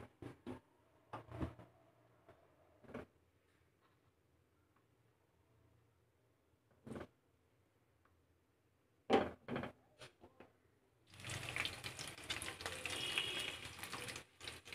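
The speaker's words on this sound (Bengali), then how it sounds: "এবার আমি আলুগুলো ভেজে নেব।" Potatoes dropped into hot white oil in a wok, with scattered clinks and taps at first, then a sudden loud, steady sizzle of frying that carries to the end.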